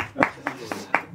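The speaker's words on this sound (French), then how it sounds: "Donc on applaudit David." A handful of people clap at a Torah class, a few separate claps spaced irregularly across a brief moment, close and moderately loud.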